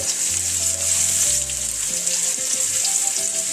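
Freshwater snails (suso) fry in a pan of sautéed garlic, making a loud, steady, close hiss of sizzling oil with faint clinks, while low music hums underneath.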